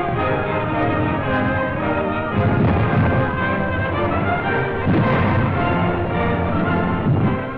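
German mortar fire landing near forward observation posts on the Gothic Line in Italy, 1944: a dense, continuous rumble with heavier concussive bursts around the middle and later, loud throughout.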